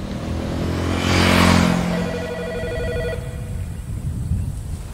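A telephone rings with a repeated electronic trill, loud and close, overlapping a brief whooshing swell before the ringing fades out.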